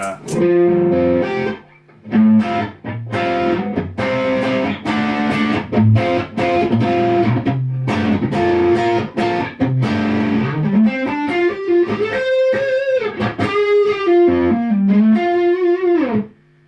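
A loud, thick, throaty electric guitar through an overdrive pedal plays chugging chords and riffs, then sustained bending lead notes, with no one speaking.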